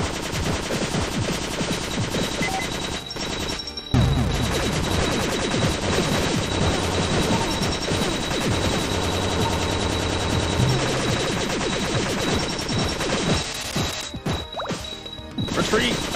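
Gunfire in the video game Cave Story, loud rapid shots with crashing impacts over a busy game soundtrack, someone talking in places through the sixteen seconds.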